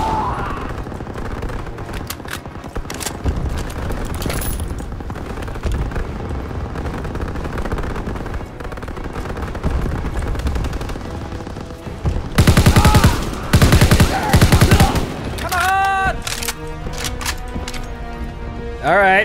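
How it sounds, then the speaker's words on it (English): Sustained gunfire and battle noise from the Call of Duty: WWII game, with rapid automatic fire and booming blasts in a chaotic mix and a louder burst near the middle, while voices speak over it. "That guy just firing at a wall for no reason."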